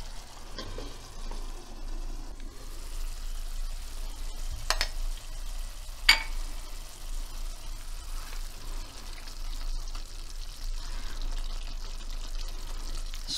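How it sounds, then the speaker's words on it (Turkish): A rice dish with red pepper flakes and black pepper sizzles gently in a pot while being stirred, giving a steady low bubbling hiss with a couple of sharp utensil clinks, close and without speech. "Şimdi bir karıştıralım."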